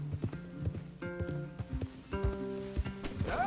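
Horse hooves clip-clop in Red Dead Redemption 2, with an irregular run of close hoof strikes alongside low tonal game music and a brief whinny near the end.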